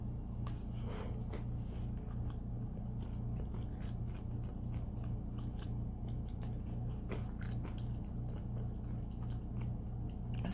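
Someone chews a bite of sausage and apple stuffed acorn squash, with soft, close, moist biting and mashing sounds over a steady low hum and no talking.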